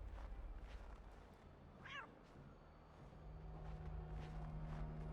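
A cat meows once in Assassin's Creed 3, a short wavering cry over a steady hum of ambient game noise and faint footsteps.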